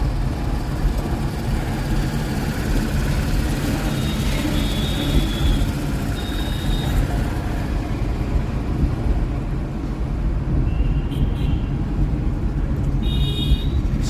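A car being driven during a driving lesson, its engine giving a steady, close drone with road rumble that holds evenly for the whole stretch.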